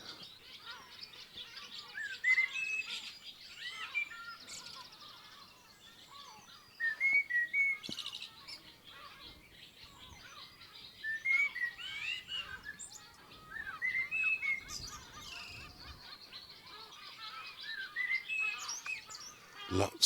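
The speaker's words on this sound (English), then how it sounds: "blackbird." Blackbird singing high in a giant old oak in a farmyard, clear fluting phrases repeated every few seconds at moderate distance, with other faint chirps around.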